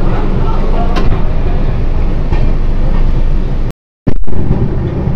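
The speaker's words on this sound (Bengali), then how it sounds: "আমার ট্রেন এখন বেলদা স্টেশন ছাড়লো।" The East Coast Express pulls out of Belda station with a loud, continuous rumble that cuts out briefly near the end and then resumes.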